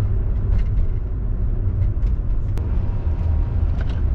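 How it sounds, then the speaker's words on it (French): Engine cooling fan whirring steadily in a 1991 Mercedes W124 230E with manual gearbox, a constant low rumble and hum heard from inside the car with no breaks. "c'est le bruit du ventilateur qui tourne"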